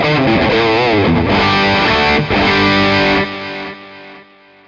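Electric guitar played through a Tech 21 Richie Kotzen RK5 Fly Rig overdrive into an amp, loud distorted chords ringing out, then decaying to quiet near the end.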